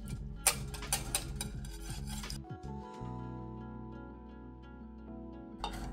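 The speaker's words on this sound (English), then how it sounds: "we're going to whisk in 2 eggs" Two eggs are whisked by hand into a slightly warm chocolate soaking mixture for bread and butter pudding, a quick scraping rhythm for about two seconds, then a quieter steady tone with faint clinks.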